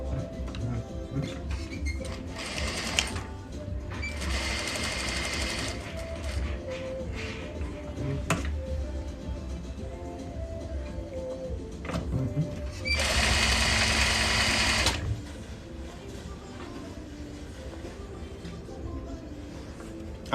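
Sewing machine running in two short bursts while stitching an alteration line to taper jacket sleeves; quiet handling and rustling noises fill the gaps between the runs, with the second burst louder and steadier.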